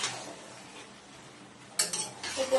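Chilli chicken with gravy being stirred in a pan, a quiet scrape of the spoon followed by louder clinking and scraping of metal against the pan toward the end.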